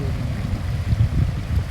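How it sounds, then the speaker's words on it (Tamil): Rushing water poured from two or three pipes, roaring like a big waterfall at Mannavanur near Kodaikanal; a steady low-heavy wash fills the whole stretch with no pauses. "பைப் தண்ணி தான் மிகப்பெரிய அருவி மாதிரி."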